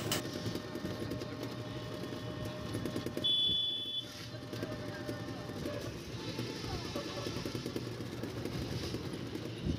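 A ride on a toto electric rickshaw heading to the launch ghat at Mayapur, with a steady road rumble and traffic noise throughout, a brief high-pitched beep around the middle, and no clear talking.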